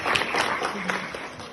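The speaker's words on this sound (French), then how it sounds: "Il faut applaudir, je pense." An audience applauds at a fifth anniversary celebration for a cultural association in Geneva: a brief burst of dense, steady clapping, fairly close and even in loudness throughout.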